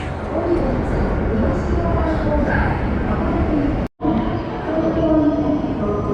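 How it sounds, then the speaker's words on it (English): Hokuto Express train waiting at Hakodate station, heard as a steady, loud rumble of platform ambience with pigeons cooing and murmuring voices, briefly cut by a short gap near the end. "So this should be Hakodate? Yes, Hokuto Express. This is my train."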